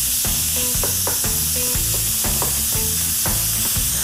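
Minced meat frying in a pot, sizzling steadily while being stirred, with repeated knocks of a spoon against the pot in an irregular rhythm, loud and close with no talking.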